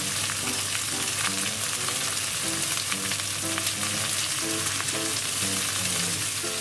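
Pork-belly rolls wrapped around eggplant and eringi mushroom and shiso frying seam-side down in a lightly oiled pan, a loud, dense, continuous sizzle with small crackles and pops and no talking.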